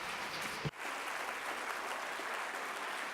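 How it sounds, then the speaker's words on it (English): Audience applause at a conference talk, a steady broadband wash of many hands clapping that runs the whole time, interrupted by one brief thump near the start. "Un bellissimo applauso."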